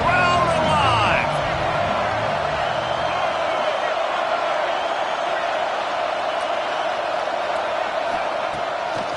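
A stadium crowd in a college football video game roars during a third-down red zone play, a sustained, loud wash of cheering that holds steady throughout.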